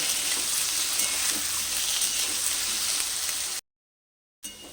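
Potato pieces frying in oil in a pan, a continuous close sizzle with light stirring, cutting off abruptly near the end before briefly resuming.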